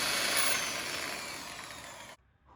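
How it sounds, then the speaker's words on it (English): A steady, loud power drill whirs continuously for about two seconds while drilling a pilot hole in a steering shaft rag joint, then cuts off abruptly, leaving near silence. "I do need to drill a hole, tap a screw into the rag joint."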